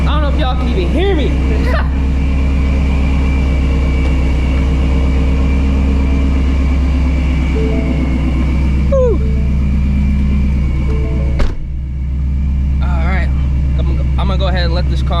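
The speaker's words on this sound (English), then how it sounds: "Go ahead and let this car warm up" A supercharged Shelby GT350 V8 idles steadily while warming up, a loud, deep, even rumble close by with small revs, as a voice talks over it.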